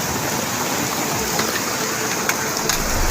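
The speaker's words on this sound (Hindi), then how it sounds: "पूरा बारिश आके देखो, गाड़ी भी डूब गई है, पूरा मलबा आ रहा है" Heavy cloudburst rain pours steadily in the hills of Almora, Uttarakhand, with rushing water and debris flow, a dense continuous roar with occasional sharper splashes and no speech.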